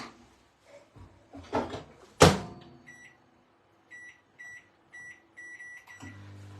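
A kitchen microwave oven has its door shut with a sharp clunk, then a series of short keypad beeps, and finally its low running hum starts, all fairly quiet and without talking.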